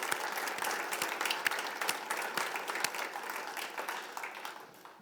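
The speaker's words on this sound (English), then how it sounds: "I think we should give them a round of applause right now." A conference audience applauds the venue staff at a closing address, a dense, steady wash of many hands clapping that fills the room at moderate distance and slowly thins toward the end.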